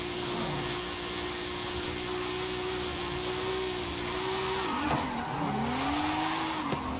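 Datsun 240Z in the racing game Forza Horizon 5, climbing uphill: a steady, straining engine drone holds one pitch, then drops and climbs again through a gear change, with brief tire noise under a constant loud game mix.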